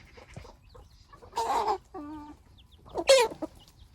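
Chickens clucking in a backyard flock that includes a rooster-like hen and chicks, with two loud bursts of squawking and clucking close by and softer clucks between them, no talk.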